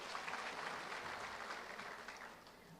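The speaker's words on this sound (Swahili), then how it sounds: "Pigia Senator makofi." An audience at a gathering in Meru applauds a Senator with dense, steady clapping that holds at an even level from start to finish, with no voices standing out.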